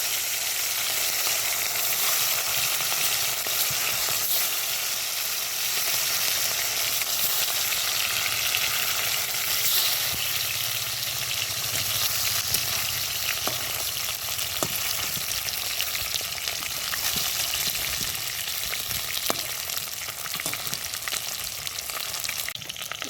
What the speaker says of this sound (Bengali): তেলটা গরম হয়ে গেছে, এবার দিয়ে দেবো মাছ